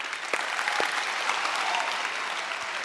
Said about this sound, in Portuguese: Uma salva de palmas para Carol.